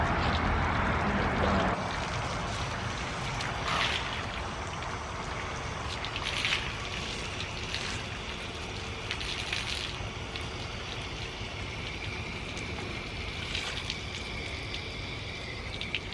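Steady splashing and trickling water runs off a car being washed, continuous throughout, a wet, hissing wash with a few louder swooshes, close by and without voices.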